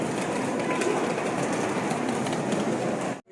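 Lao high-speed EMU train pulling away from Vang Vieng station, a steady broadband hum and rush from inside the carriage that cuts off abruptly.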